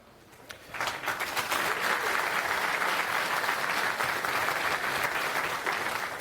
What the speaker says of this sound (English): small applause for Jesus